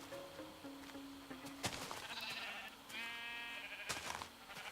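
Blocky sheep in Minecraft bleat in short wavering cries, one after another, over background game sounds with no talking.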